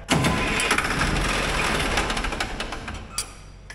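An old Allis-Chalmers diesel military generator, long unused, cranks and fires up, its clattering engine noise loud at first and then settling into a rough, uneven run.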